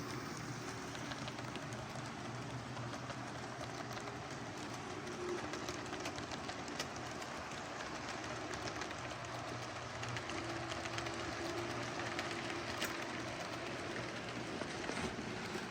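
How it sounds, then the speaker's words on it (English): A Star Trek themed toy train runs along its track with a steady, continuous mechanical whir and light clatter that stays at an even level throughout, with no talking. "This is without a doubt the world's longest Star Trek train."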